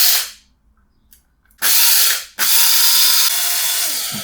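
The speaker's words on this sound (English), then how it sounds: "now is just try to grind the rest of the coffee and try to get them into nice fine consistency" A Bosch electric coffee grinder whirs through coffee beans toward a fine grind in two loud, close bursts separated by a brief pause, with a quiet gap before the first burst and no talk.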